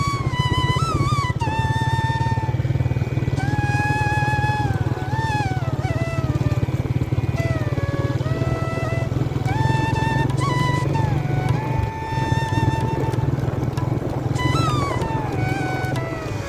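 A motorcycle rides along a canal road, its engine droning low and steady throughout while a whining tone rises and falls repeatedly above it.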